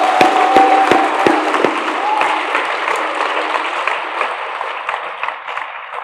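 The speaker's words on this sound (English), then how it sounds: "I'd like to welcome and give one more round of applause to Gold Jacket," An audience at a Pro Football Hall of Fame event gives a steady round of applause, dense clapping that fills the room and slowly fades, with a few sharp nearby claps at the start.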